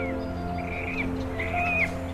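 Cormorants call at a lake colony in Switzerland: a few thin, rising calls sound over a steady low droning background, moderately distant, with no speech.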